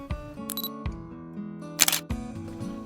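A camera shutter fires once while photographing water lilies at a 560mm focal length and 1/640 s, a short crisp click in the middle over soft steady background music.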